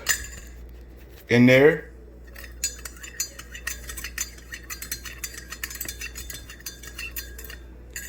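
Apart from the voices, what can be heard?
spoon stirring sugar into a cup of coffee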